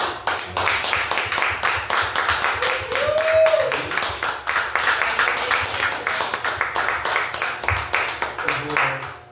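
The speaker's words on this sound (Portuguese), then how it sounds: "eu queria pedir uma salva de palmas para Jesus." Church congregation clapping in a dense, steady rhythm for about nine seconds, lively group applause with a brief vocal cheer partway through.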